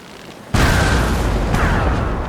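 Ship cannons fire in a naval battle, a sudden heavy boom that swells into a sustained roaring rumble, with a second blast rolling in about a second later.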